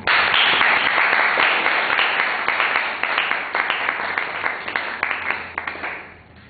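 A class claps together in a room, a dense burst of applause that starts loud and thins into scattered, fading claps over several seconds.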